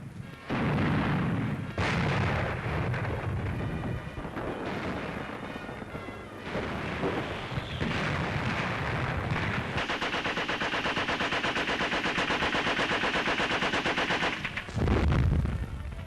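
Newsreel battle footage of Stalingrad in 1943: sustained, loud bursts of machine-gun and artillery fire with heavy booms, rattling continuously under a dense wartime soundtrack, with no speech.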